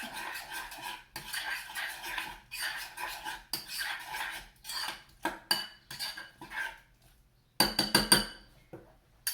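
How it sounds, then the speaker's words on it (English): Chopped broccoli being stirred into a broccomole dip in a bowl: a spoon scrapes and clinks against the dish in uneven bursts, with short pauses and a brighter ringing clink near the end, close and fairly quiet. "I'm just going to add those in and stir it up."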